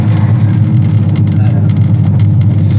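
A VW T5 double-cab van with a 700 hp R32 turbo engine and 4Motion drive accelerates, a loud steady low engine drone heard from inside, with people talking over it.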